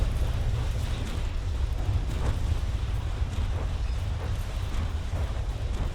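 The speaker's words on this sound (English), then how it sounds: "Those explosions are not doing much against the heavy armour." Heavy explosions pound against thick armour in the naval-airship combat game From the Depths, a dense continuous low rumble with scattered blasts rising out of it.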